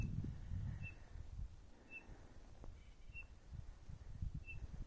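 A bird gives brief, high whistled calls, four short notes spaced about a second apart, faint and distant over low rumbling wind and footstep noise on a snowy canyon trail above 6,000 feet.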